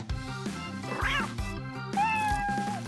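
A cartoon cat in a Toca Boca game gives short, high meows over bouncy background music, ending with a longer drawn-out meow.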